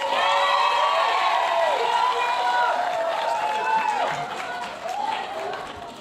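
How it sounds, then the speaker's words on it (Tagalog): Crowd noise at a Philippine government event in Japan, steady and loud throughout with cheering and whoops over the din, fading slightly toward the end. "malakas ang palakpak nila"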